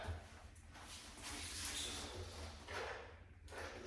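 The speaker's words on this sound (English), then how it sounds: "this door's not wanting to shut" A wooden interior door with stripped hinge screw holes rubs and scrapes against its frame as it fails to shut, a few soft dragging scuffs close by with no talk.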